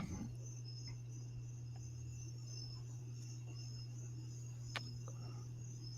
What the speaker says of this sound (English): Are those your grasshoppers? That you hear in the background?